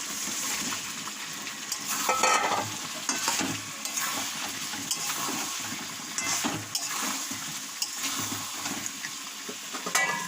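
Potatoes fry in a pan with a continuous crackling sizzle, while repeated scraping and clattering stirring strokes rise and fall close by.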